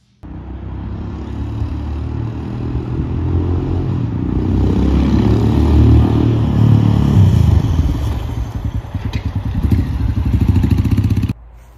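A Royal Enfield Himalayan fitted with a Harley-Davidson Street 750 front brake caliper rolls along, its engine a steady rumble with wind and road clatter that swells midway, then cuts off abruptly.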